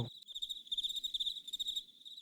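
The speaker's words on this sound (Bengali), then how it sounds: "চারপাশে ঝিঝি পোকার শব্দ" Crickets chirp on and on in a banana grove at night, a dense high trill that pulses steadily throughout, with only faint low background noise beneath.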